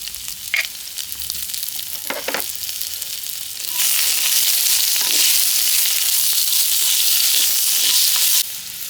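Green chilies and fenugreek seeds frying in a pan, a few soft clinks and stirs and then a loud, steady hiss of sizzling oil that holds for several seconds before easing off.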